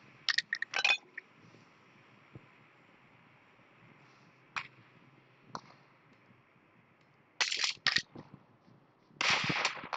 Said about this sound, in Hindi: टीम 17 के पास स्नाइपिंग हो रही है टीम 14 के द्वारा